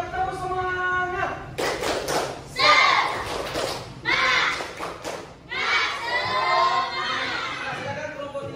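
A group of school children gives a cheer of encouragement in a classroom, with bursts of clapping, thumps and excited shouting mixed with a teacher's voice and children's chatter.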